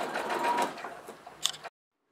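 A sewing machine runs steadily while stitching seams on a fabric placemat, a continuous motor whir with a brief sharper clunk near the end before it stops and falls silent.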